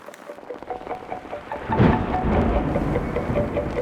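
Thunder rumbles and rolls loudly over steady rain during a storm at a forest lake in France, the roar swelling partway through and staying heavy to the end.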